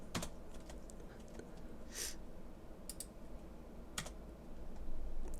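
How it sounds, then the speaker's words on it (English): Scattered keystrokes on a computer keyboard while entering fuel values in a flight simulator, a few sharp taps spaced out over a low steady background hum, no voices. "So I'm just going to type in 0."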